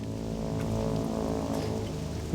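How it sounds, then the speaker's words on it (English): Rain falls over a swamp in World of Warcraft Classic, a short, continuous wash of drops at moderate loudness over a low droning ambience, with nobody speaking. "We're getting a bit of rain today in the swamp."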